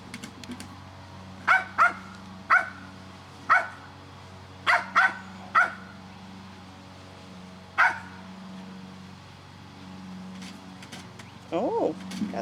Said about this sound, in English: A few more barks.